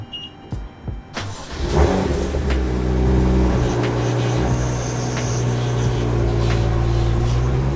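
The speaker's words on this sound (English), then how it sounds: "Just gonna spin the car around really quick" A BMW M2 starts up and its engine revs as the car is turned around, a loud steady mechanical roar with a rising note after a few brief knocks at the start.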